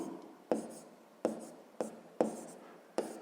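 Pen or pencil writing math on paper in a sixth-grade lesson, with five short, sharp scratching strokes spaced about half a second apart, close up and with no talking.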